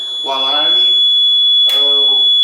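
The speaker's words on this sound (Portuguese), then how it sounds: "O alarme é a indicação que está faltando água na caldeira" A climate test chamber's alarm warns of missing water in its boiler with a steady, piercing electronic tone that runs unbroken throughout while someone speaks over it.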